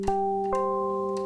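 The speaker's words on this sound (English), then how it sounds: "it's a sine wave that slightly goes into being a triangle wave" A steady, pure wavetable synth tone, a sine wave edging toward a triangle wave, with a few soft harmonics, sustained with a couple of light attack blips, alone and fairly quiet.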